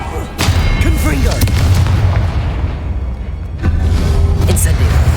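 Booming blasts from the Confringo spell in a Harry Potter video game, several loud explosive thuds with rumbling tails amid game effects and music, with a voice speaking between them.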